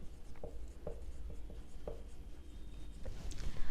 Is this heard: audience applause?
no